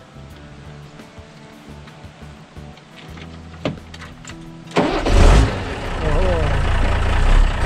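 A Mercedes-Benz 1114 truck's diesel engine cranks with a brief whirring starter, then catches and settles into a loud, rough, steady idle close by, with a short exclamation from a person.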